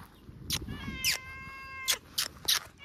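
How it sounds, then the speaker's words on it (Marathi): A cat meows several times at a fish market in Malvan, giving a short, clear, close cry with a few sharp rustles and thumps around it. "मांजराचा आवाज काय?"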